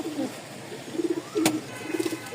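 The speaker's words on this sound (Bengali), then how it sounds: "এখানে দুই পেয়ার কবুতর আছে" Pigeons at a home loft in Bangladesh coo softly in short repeated bursts against a noisy background, with one sharp click midway and no talking.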